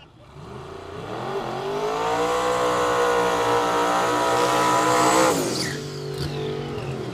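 A turbo LS wagon and a turbo LS Mustang drag racing on a no-prep strip roar past, engines rising to a loud rev that peaks and fades with a quick drop as the cars pass.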